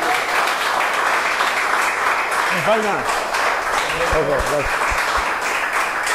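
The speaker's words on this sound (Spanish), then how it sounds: "le vamos a pedir un aplauso para darle fuerza para él" An audience at a basketball education event applauds in a steady, continuous wash of clapping throughout, while a voice speaks briefly over it.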